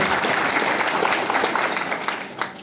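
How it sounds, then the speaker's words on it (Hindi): Audience applause at a political party event in Bhabhua, Kaimur, a steady broad wash of clapping that holds fairly loud throughout and thins slightly toward the end. "एक बार जोरदार ताली बजाइए सभी के नाम पर।"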